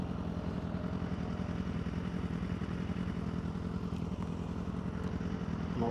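A BMW S1000RR motorcycle engine in Dakar, running steadily with a dense, throbbing mechanical rumble and a rapid pulsing beat, close and constant, with a light clatter over the top and no voices.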